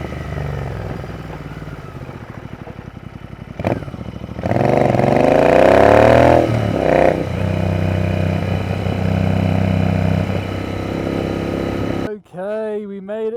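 Royal Enfield motorcycle engine thumps steadily while riding downhill in Austria, the bike developing a problem, with a rising rev swell midway and wind noise, then a brief voice at the end.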